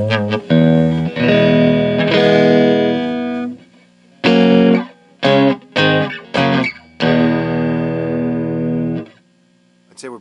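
An electric guitar plays clean, sustained chords and single notes through a repaired 100-watt Marshall mini stack with the reverb turned down. Strums ring out and decay, then short bursts follow with silent gaps, and no voices are heard.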